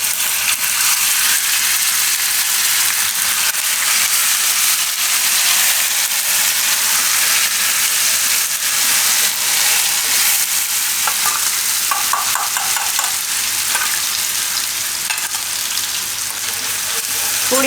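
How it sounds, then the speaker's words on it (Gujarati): Ginger, chili and garlic paste frying in hot oil for paneer bhaji, a loud, dense sizzle and hiss held close throughout while the paste is stirred, with faint scraping and no talk. "તો આપણે ગરમ થઈ ગયું તો એમાં નાખી દેવું આપણે આ આદુ, મરચાં અને લસણની પેસ્ટ."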